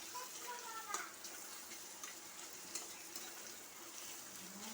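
Onions frying in oil in a wok, a faint, even sizzle running throughout with a couple of light clicks from stirring.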